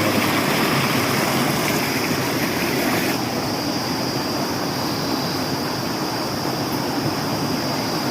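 A waterfall and stream rush loudly and continuously in a broad, steady roar, close by and unbroken, with no voices over the flowing water.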